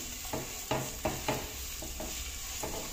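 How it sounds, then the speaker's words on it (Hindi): Onions frying in oil in a pressure cooker, a soft continuous sizzle with several sharp stirring scrapes of a spoon against the metal pot, close but quiet. "प्याज को हम अच्छे से भूनेंगे।"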